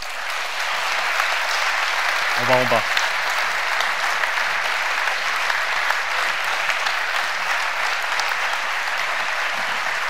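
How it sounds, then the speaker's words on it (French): A large audience gives steady, loud, sustained applause for a round-table panel at a security forum, with one brief voice speaking near the start. "Vous pouvez les applaudir"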